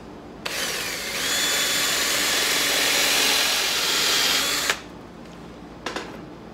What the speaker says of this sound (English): So I'm going to put a hole with the countersink here and here.